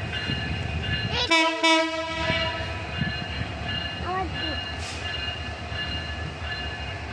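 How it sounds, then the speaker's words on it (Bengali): A train passes nearby, its horn sounding in two loud blasts followed by a steady rumble of carriages, with a person speaking briefly over it. "ট্রেনটা যাবে, এই ট্রেনটা এটা যায়, ওই ট্রেনটা যাবে"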